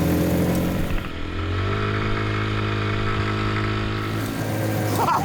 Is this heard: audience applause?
no